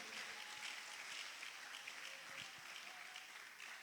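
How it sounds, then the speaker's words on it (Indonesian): A church congregation claps for God during a Sunday morning service, a dense and steady round of applause heard continuously at a fairly distant, quiet level. "Kita berikan tepuk tangan bagi Tuhan Allah kita."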